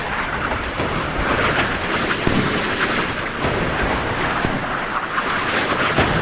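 Heavy naval guns of an Iowa-class battleship fire in the naval combat game Sea Power, with deep booming blasts every few seconds over a continuous loud, rumbling roar of battle.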